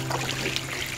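Short bursts of sprayed water splattering on a person at a summer water play area, a close, bright hissing spritz with uneven pulses lasting about a second.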